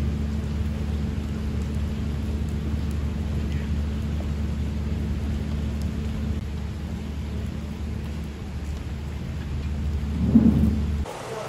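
Heavy typhoon rain pours down steadily on a street in Hanoi during Typhoon Yagi, with a deep, continuous thunderous rumble underneath and a brief louder swell near the end.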